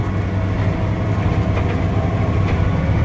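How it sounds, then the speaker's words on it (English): A Speedrower 260 Plus swather with its header cutting hay in a field: a loud, steady, close-up machinery drone with a deep low rumble and broad mechanical noise throughout, and no voices. "you can hear the header, you can hear the pump wind down"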